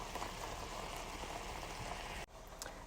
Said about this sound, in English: I get it really simmery and bubbly